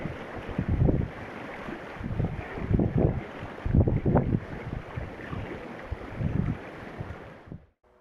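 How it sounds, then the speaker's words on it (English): A Colvic Watson 32 motorsailer sails in 11 knots of wind off the Irish coast, with wind buffeting the microphone and water rushing past the hull in uneven surges, fairly loud and close, with no talking. "are sailing up the Irish coast in just 11 knots of wind, doing 6 knots through the water"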